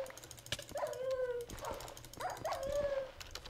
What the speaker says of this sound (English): This should start spawning wolves for me.